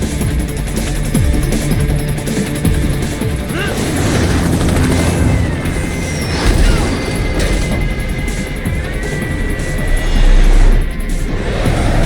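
A helicopter drones in the Metal Gear Rising: Revengeance video game, a steady rotor rumble under dense game effects with crashes and impacts, loud throughout.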